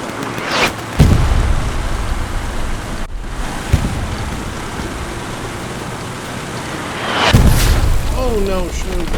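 In the World War II shooter Hell Let Loose, heavy artillery shells land with loud booming blasts, one near the start and another later, separated by rumbling battlefield noise and a sharp crack between them.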